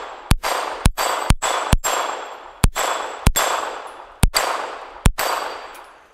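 Rapid .22 shots from a Smith & Wesson Model 41 pistol strike steel targets at close range. Ten loud cracks arrive in a quick, even rhythm, each with a metallic ring that carries into the next shot.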